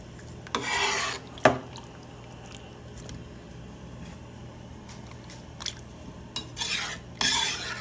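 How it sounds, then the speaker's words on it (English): Ingredients for a three-bean smoked meat dish are stirred together in a cooking pot, giving close, gritty rasping scrapes in a few short bursts over a low background hum. "So we just mix all that together in the pot."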